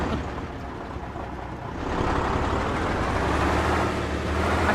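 Big truck driving through the snowy world of the survival game Sakhal, a steady loud engine rumble and road roar that swells and grows fuller partway through, with no talking over it.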